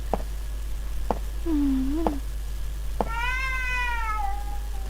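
Two cat meows in the horror game Ju-On: The Grudge, one low and short, the next higher and drawn out, over a steady low hum and several sharp knocks.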